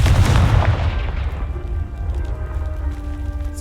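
A Confringo blasting spell explodes in Hogwarts Legacy, a loud close boom that opens the clip, then a rumbling tail fading over a few seconds while tonal game music takes over.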